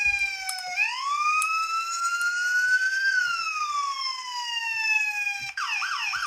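A model police light bar sounds a loud electronic wailing siren, rising and falling in long sweeps before switching to a fast yelp pattern near the end.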